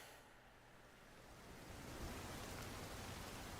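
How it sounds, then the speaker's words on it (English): Rain storm in the Forza Horizon 5 racing game, a steady broadband hiss of heavy rain and wind that swells slightly louder partway through, with no talk over it. "Into the eye of the storm."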